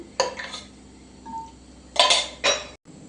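Ingredients go into a biryani pot in a home kitchen, with a few close, sharp clinks and scrapes of metal utensils against the pot in short bursts between quieter moments.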